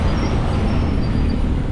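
A steady, loud rumble from a train near Kottayam railway station fills the air continuously, a dense low roar with no breaks and no voices.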